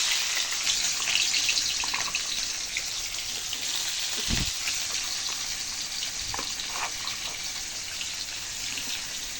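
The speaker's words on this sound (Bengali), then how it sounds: "পেঁয়াজটাকে একটুখানি ভেজে নেব" Chopped onions fry in oil in a pan, a loud, dense and continuous hiss that stays constant, with a couple of low thumps partway through.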